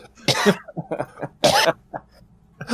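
Two bursts of harsh, close coughing from a woman in the 1993 film Airborne, with a few throaty sounds between them.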